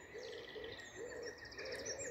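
A robin sings from a very high treetop perch, its faint, distant phrases repeating in a steady pattern against a constant background of other birdsong and outdoor hiss.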